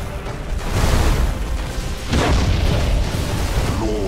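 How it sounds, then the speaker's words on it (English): Heavy spaceship weapons fire on an enemy warship in the Warhammer 40K game Battlefleet Gothic Armada 2: dense, rumbling booms and explosive bursts roll on continuously and loudly, with a sharper blast surge partway through and no speech over them. "All weapons! Fire on Hellbreed's ship!"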